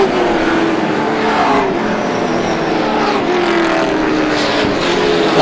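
Race cars in the GSPSS 100 at Star Speedway, a loud continuous roar of engines running together around the track, with no distinct pass-by.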